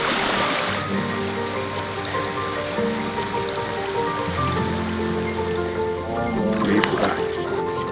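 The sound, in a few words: river water flowing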